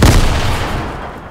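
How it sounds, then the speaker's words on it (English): A Fortnite grenade goes off in a single loud, booming blast that rolls away and decays over about a second, heard alone. "I threw a grenade down."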